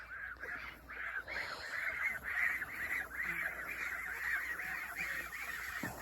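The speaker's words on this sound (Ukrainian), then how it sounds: "Перевели ми своїх гусей сюди, але вони такі дикуни що мама не горюй." Domestic geese by their water pool honk in a steady run of repeated calls at moderate distance, one honk following another with no talking over them.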